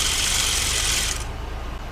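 The windup spring motor and governor of a Bell and Howell 414 run down with a loud, steady whirring and ratcheting buzz that abruptly drops in pitch and thins out about halfway through, close up with no voices.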